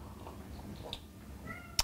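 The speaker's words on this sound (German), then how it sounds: "Psst, Katze." A domestic cat meows a few times, faint and somewhat distant in a quiet kitchen, with a sharper, louder mew right at the end.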